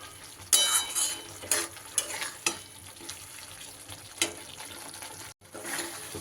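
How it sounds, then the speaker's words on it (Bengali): Masala with yogurt frying and being stirred in a pan for a vegetarian broccoli curry: a steady close sizzle broken by several sharp scraping stirs, with a brief dropout near the end. "মশলাটা আমার বেশ সুন্দর করে কষানো হয়ে গেছে"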